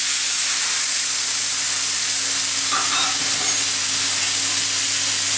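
Frying brinjal in oil sizzles loudly after a water and spice mix is poured into the pan, a dense steady hiss with a brief bubbling burst midway and no voices.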